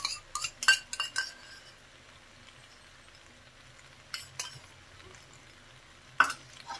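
A spoon clinks and scrapes in a pan while macaroni masala is stirred with tomato ketchup, giving a quick cluster of metallic knocks, a quiet gap, then a few more scrapes and one sharp clink.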